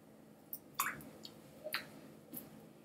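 An orange is dropped into water, giving a few soft wet splashes and drips, scattered over a couple of seconds and faint in a quiet room.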